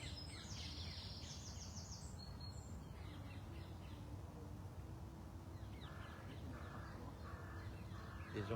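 Crows caw in the distance over a steady outdoor hum, with a few other birds chirping faintly.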